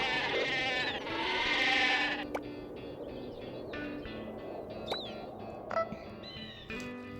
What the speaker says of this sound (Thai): เฮ้ยเสียงแกะเสียงมัวดังมากเลย ไม่ชอบเลย